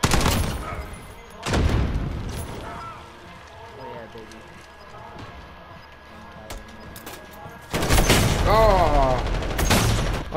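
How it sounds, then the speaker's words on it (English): Gunfire in a first-person shooter match with bursts of broadband shots at the start and near the end, loud and close, alongside voice chat between players. "I got in between gunfire"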